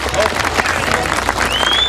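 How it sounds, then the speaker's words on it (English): A dense crowd at a 1988 Britain's Strongest Man event breaks into loud, sustained cheering and applause that fills the whole stretch, with a few whistles rising above the roar. "Tremendous cheer for him, Paul Lupton."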